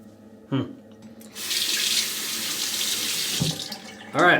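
Tap water runs steadily into a sink for a rinse during a grooming session, a loud continuous splashing stream of about two seconds, framed by brief clunks and handling noises before and after.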